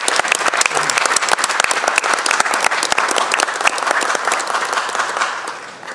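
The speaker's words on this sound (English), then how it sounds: "let's give Gene and all of the founders of Koreatown a round of applause" Audience applause for the founders of Koreatown at a Los Angeles City Council Koreatown Day proclamation: dense, steady clapping from a large crowd, loud and continuous across the whole stretch, thinning slightly at the very end.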